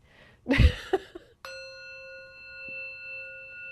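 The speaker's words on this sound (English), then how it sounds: "ring is what the bell does, like this" A single bell rings out clearly, its sustained tones holding steady and slowly decaying for over two seconds. Some brief handling knocks and rustles come just before the strike, with no talk.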